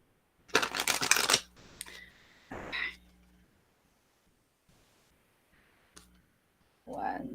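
A deck of tarot cards is shuffled, a quick riffling flutter up close followed by a few softer card clicks and taps, with a brief voice near the end.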